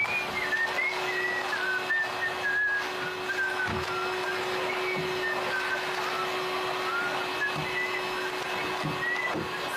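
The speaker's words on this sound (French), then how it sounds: "Je siffle." A person whistles a wavering tune, steady and clear, over a constant droning motor hum like a vacuum cleaner running throughout.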